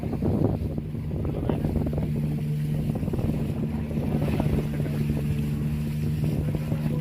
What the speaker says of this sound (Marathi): हे बघा, ही एक दुसरी बोट आली आहे.